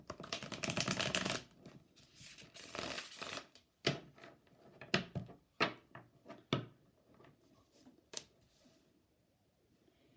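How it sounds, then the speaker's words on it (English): Oracle cards being shuffled and drawn: a dense rustling flurry of shuffling at the start, then a series of separate sharp card snaps and taps, close and fairly quiet, with no talking. "I'm going to start by pulling 3 oracle cards"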